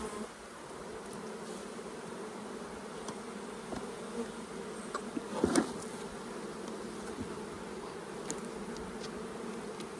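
A dense, steady drone of many honey bees buzzing close by in an indoor hive, continuous and even, with a few brief knocks and clicks partway through.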